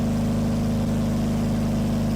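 Twin Crusader marine engines on a boat running at a steady idle, a loud, low droning hum with a strong even pulse that holds unchanged throughout, no talking.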